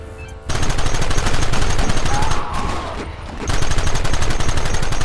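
Dense, rapid gunfire in the Red Dead Redemption video game, a continuous volley of overlapping shots that dips briefly midway and then surges loud again.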